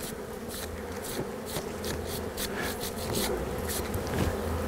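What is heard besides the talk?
honey bees buzzing at an opened hive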